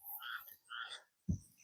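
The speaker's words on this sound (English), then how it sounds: "the frogs are in good chorus this morning" Soft, overlapping croaks and chirps from several frogs in a morning chorus at Back Bay National Wildlife Refuge, fairly faint and distant, followed by a brief low thump near the end.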